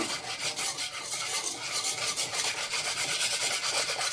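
Dragon fruit ice cream mix with milk powder is stirred in a bowl in quick, steady, rhythmic rubbing strokes, close and moderately loud, with no voices.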